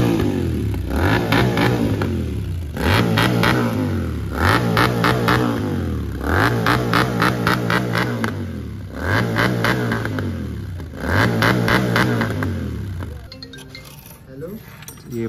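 Royal Enfield Interceptor 650 motorcycle fitted with a Red Rooster exhaust, DB killers removed, revved repeatedly in five or six loud bursts that drop back to a burbling idle between blips.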